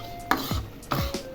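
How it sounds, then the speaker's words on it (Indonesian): Sambal being stirred with hot cooking oil in a pan, heard as two close, quick scraping strokes of a utensil against the pan, each sweeping down in tone, with no talking. "Aduk kembali sampai minyaknya bercampur rata dengan sambalnya."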